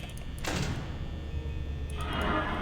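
Door closing in the video game Five Nights at Freddy's, a mechanical whoosh and thud near the start followed later by a second sliding clunk, over steady game ambience.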